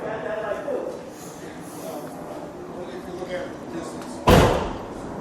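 A single heavy slam of the trunk lid on a 1955 Oldsmobile 98 Starfire convertible lands near the end, preceded by quiet background noise and faint voices.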